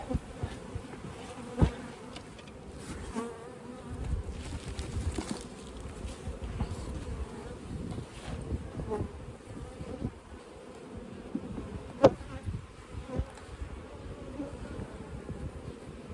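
Honey bees hum around an open beehive in a summer apiary yard, a steady, moderately quiet drone of many insects close by, with an occasional louder bee passing near.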